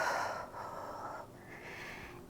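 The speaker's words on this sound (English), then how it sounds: "Inhale and exhale." A deep, slow exhale during a vinyasa yoga flow, soft breathy air that swells and fades over a couple of seconds, fairly quiet and close with no talking.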